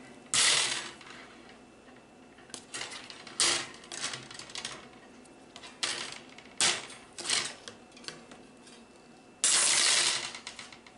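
Cutting a Dollar Tree metal wreath frame: a series of sharp metallic snips and clacks at irregular intervals, close and fairly loud, with a longer harsh burst near the end.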